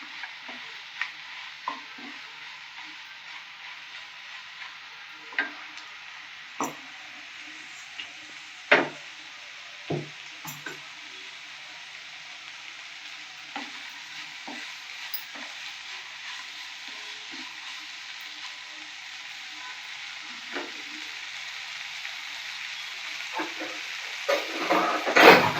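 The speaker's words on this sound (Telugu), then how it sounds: "ఇవన్నీ బాగా కలిసేలా కలుపుకోవాలి." Vegetables with coriander powder fry for a restaurant-style veg biryani, a soft steady sizzle running beneath scattered clicks and knocks of a spoon stirring the pan, growing busier toward the end.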